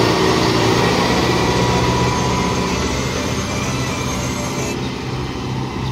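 Mahindra 265 DI XP Plus tractor engine working under load, a steady, loud, continuous rumble that holds level throughout with a dense low drone and no pauses.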